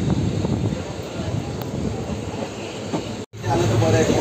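Train arriving at Sindhudurg station, heard from inside a coach as a steady loud rumble of wheels and carriage noise with a brief dropout near the end.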